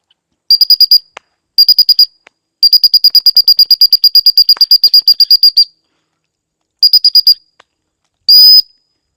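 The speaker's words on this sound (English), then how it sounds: "I want to give her that whistle command while I'm walking" Sharp, loud pips on a dog training whistle giving a recall command to a retriever, sounded in quick trilling bursts: several short groups, one long rapid run, then a final sustained blast.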